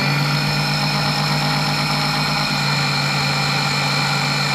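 A Sea-Doo RXT X 300 jet ski engine runs steadily through a flush, a loud, constant idling drone with a strong low hum and a dense high whine that never lets up.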